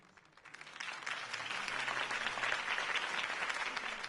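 A crowd applauds at Harvey Dent's campaign rally in a Batman video game, with clapping swelling in after a quiet start and holding as a dense, steady roar.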